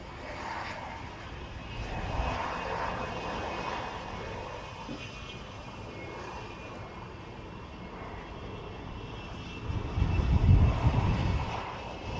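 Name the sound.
military jet aircraft arriving at airshow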